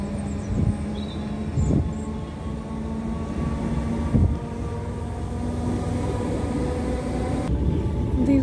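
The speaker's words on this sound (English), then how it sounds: "Oh well, let's listen to the train." British Rail Class 313 electric unit 313206 travelling at night from Littlehampton to Bognor Regis, heard from on board as a continuous motor hum and rolling rumble with a few brief clunks and jolts, no voices.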